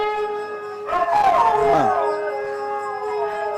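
A dog lets out a single drawn-out howl, rising and wavering, close by over a faint steady hum.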